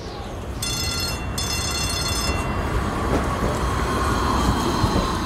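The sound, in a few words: tram arriving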